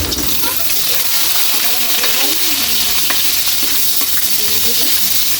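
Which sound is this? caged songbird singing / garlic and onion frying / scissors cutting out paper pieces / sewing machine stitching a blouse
garlic and onion frying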